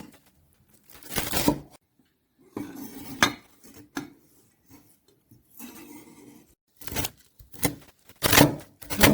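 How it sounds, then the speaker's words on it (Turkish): Irregular bursts of knife chopping fresh herbs such as purple basil and dill on a board, mixed with clinks of utensils and dishes, moderately close, with pauses between bouts. "Kara reyhanımızı, dereotumuzu doğrayacağız."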